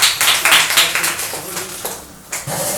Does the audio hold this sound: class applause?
yes